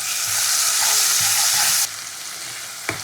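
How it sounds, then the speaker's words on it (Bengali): Tomatoes fry in a hot pan with a loud, dense, continuous sizzle. The sizzle drops abruptly to a quieter crackle partway through, and a brief utensil clink follows. No talking. "টমেটো ভাজা হতে হতে দেবো আমি প্রথমে পেঁয়াজ বাটা"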